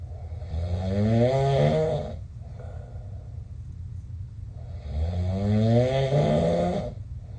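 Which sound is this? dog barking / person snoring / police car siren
person snoring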